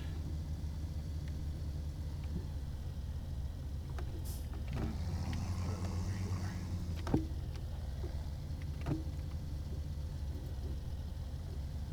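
Front loader tractor in Farming Simulator 2017 driving with a steady low engine rumble throughout, joined by a few faint clicks and brief mechanical knocks, with no talking.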